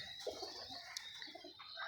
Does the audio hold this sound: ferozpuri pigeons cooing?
yes